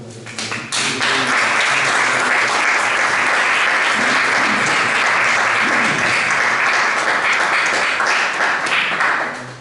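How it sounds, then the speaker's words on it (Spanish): A church congregation breaks into strong, sustained applause, loud and dense for nearly ten seconds before tapering off at the end, with no voices over it. "Dale un fuerte aplauso."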